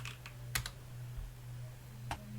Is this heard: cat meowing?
no